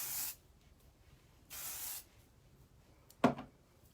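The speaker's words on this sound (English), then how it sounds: "the last product is the Hot to Trot Max Hold Hairspray" Hot to Trot Max Hold Hairspray misted onto crimped hair in two bursts of about half a second each, close and hissing, followed by a short sharp rustle.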